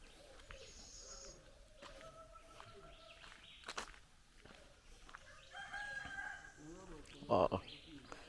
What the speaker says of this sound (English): Yeah, all the rooster crowing.